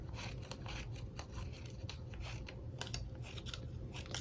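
Scissors trim paper for an Easter card, a quick run of close, crisp snips and rustles repeating steadily throughout.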